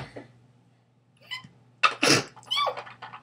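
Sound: sneeze

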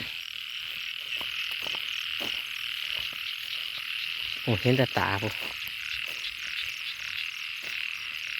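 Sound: frogs croaking at night

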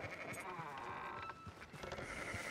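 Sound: sheep bleating in video game Red Dead Redemption 2

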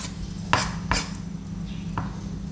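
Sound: chopping apple snails into pieces

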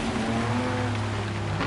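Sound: rain in the video game Gran Turismo 7

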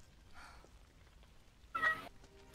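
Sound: cat meowing

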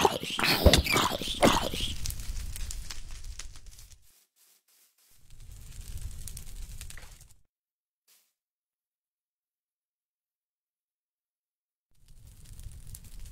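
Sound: dogs in a video game

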